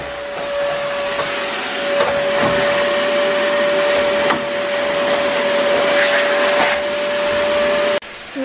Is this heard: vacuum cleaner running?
yes